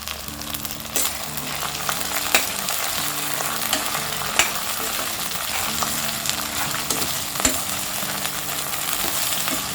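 Vegetables including French beans, capsicum and green peas frying on a low flame for soya pulao, giving a steady close sizzle with occasional light taps of a spoon, no talking.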